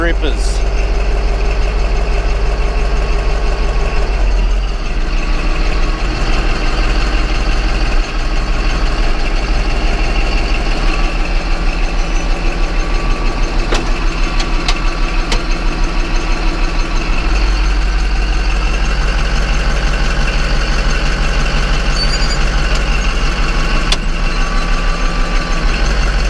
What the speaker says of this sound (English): then I'll get to warming up the engine so we can change the oil